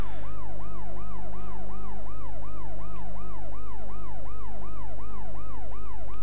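Police car siren from the PS1 video game World's Scariest Police Chases wails in fast repeating cycles, loud and continuous over a low engine drone, with no talk.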